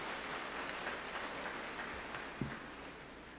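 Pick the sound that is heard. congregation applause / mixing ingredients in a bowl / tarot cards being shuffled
congregation applause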